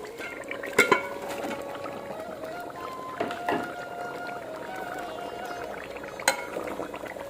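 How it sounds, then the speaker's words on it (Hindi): A spoon stirs boiled liver curry in a pot, giving a few sharp clinks against the metal spaced seconds apart over a soft, continuous simmering background. "एक से चम्मच हिला रही हूँ"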